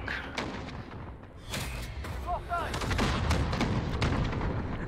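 A grenade blows up in the video game Call of Duty: Modern Warfare, a heavy thudding boom followed by crackling blasts and battlefield rumble, with a brief voice in the mix.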